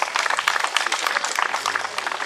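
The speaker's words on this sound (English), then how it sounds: "Let's have a round of applause for our teachers." An audience at a summer welcome event gives a round of applause for teachers. The clapping is dense and sustained, and there is no talk over it.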